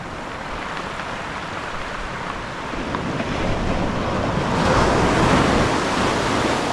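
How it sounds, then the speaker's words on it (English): Big tide waves surge up Merthyr Mawr beach, a steady broad roar of surf with wind buffeting the microphone, swelling louder toward the end. "with the tide being so big. You know, it's come up the beach at the rate of knots"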